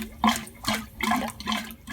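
Grey water gushes from a gulper pump out the side of a narrowboat on a canal, a close, moderately loud splashing flow that surges in uneven pulses.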